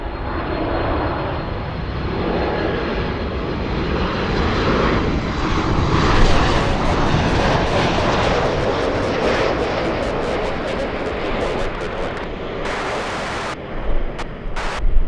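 Jet airliners roll and take off at Los Angeles International Airport, Southwest and Delta among them, a loud steady engine roar filling the air with a broadband rush and bursts of buffeting near the end.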